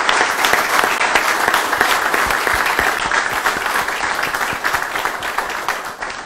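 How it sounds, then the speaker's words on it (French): Standing ovation for Fouzil Rjab at an investment agreement signing ceremony for the Raja sports club: sustained, dense applause from a large audience, steady and loud throughout with no speech over it. "Je vous demande une standing ovation pour Fouzil Rjab."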